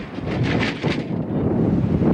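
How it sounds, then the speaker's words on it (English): Strong roaring wind at a beach during a storm with gusts near 55 miles per hour, a loud, constant buffeting rumble battering the microphone with no voices. "Roaring winds, crashing waves, and blasts of sand."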